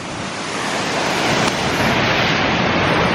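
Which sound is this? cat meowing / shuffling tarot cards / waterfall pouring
waterfall pouring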